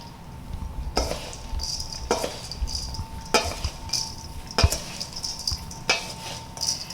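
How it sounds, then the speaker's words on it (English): Dry granola ingredients stirred together in a bowl for gingerbread granola, giving a steady rustling scrape with periodic clinks of the spoon against the bowl, close and fairly quiet. "So now I'm going to stir this together."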